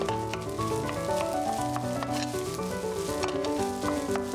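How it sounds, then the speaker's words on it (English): Cold rice frying in lard in a pan for Spam fried rice, a steady close sizzle with light crackles and stirring taps and no voices. "The lard makes the cold rice crispy."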